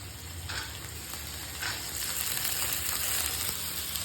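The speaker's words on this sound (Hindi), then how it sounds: "मम्मी यहाँ पे काले चने को भून रही है" Black chickpeas roast in a pan with a steady, fairly quiet sizzle and crackle, a faint stirring scrape now and then, and no talking.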